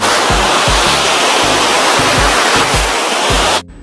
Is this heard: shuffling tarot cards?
no